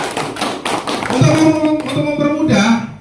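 Group clapping in a classroom led by a teacher: rhythmic hand claps from many pupils, loud and close, with voices and chatter rising over the claps in the second half.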